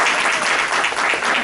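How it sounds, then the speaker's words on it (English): Loud, dense audience clapping at a fundraising event fills the short moment, an even roar of hands without pause. "Come on, guys, clap it up."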